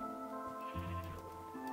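Minecraft sheep bleating in an Xbox 360 game, a couple of nasal, wavering bleats in close succession, clear and fairly quiet, standing alone.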